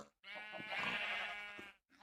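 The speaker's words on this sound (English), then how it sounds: "Plenty of sheep, but not too many." A sheep bleats in the Minecraft video game, one sustained, wavering bleat lasting over a second, fairly loud and close, with no talking over it.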